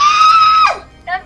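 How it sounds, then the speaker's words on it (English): Shrill monkey-like shriek in the video game Little Inferno: a sustained high squeal that bends sharply downward, then a brief chattering burst, loud and close. "That sounds like a monkey though"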